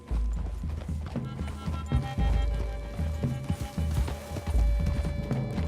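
Hooves clip-clop in a steady trotting rhythm from several horses in Red Dead Redemption 2, moderately close, with a low rumble underneath and brief voices.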